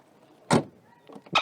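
An Audi 100 C car door shuts with a sharp solid thump, followed by a second latching clunk a moment later, close by with no talking.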